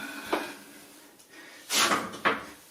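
Wooden oak drawer being set into a custom dressing cabinet: a few separate knocks and a scraping slide, close and moderately loud, with quiet pauses between.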